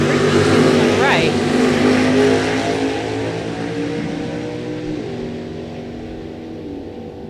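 A 1971 Nova and a 1969 Camaro launch off a drag strip start line with a loud, roaring engine burst that fades steadily into the distance, with talk faintly in the background.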